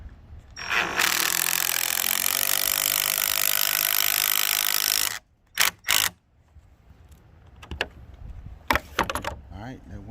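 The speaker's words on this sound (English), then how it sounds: "Put your drill on." A power drill drives a screw into old pallet wood, a loud, steady whirring grind for about four seconds that cuts off abruptly, followed by two short bursts and scattered knocks and handling noises.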